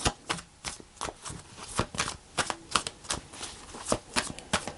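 Tarot cards being shuffled by hand, a rapid series of crisp riffles and flicks in uneven bursts, close and fairly loud with no talking.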